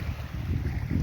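Strong wind gusts over a lake buffet the microphone outdoors, a steady low rumble with faint lapping water beneath it and no voices.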